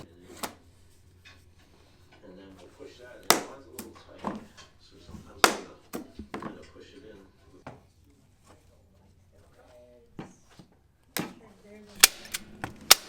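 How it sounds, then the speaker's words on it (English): Handgun shots from a 9mm pistol fired into flooring materials, several sharp loud cracks spaced irregularly, with people talking quietly between the shots. "So I think we're gonna start with some 9mm, see how that goes, and then progress into a rifle."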